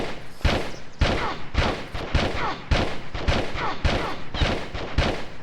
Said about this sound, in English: I'm going to pull out my revolver ammo and just shoot him 10 times with it